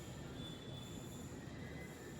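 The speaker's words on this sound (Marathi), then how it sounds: "ही आली आपली मेट्रो" A Pune metro train with its cars painted over as a moving billboard pulls in, its wheels squealing in steady high tones over a continuous loud rumble of rolling stock, with no voices.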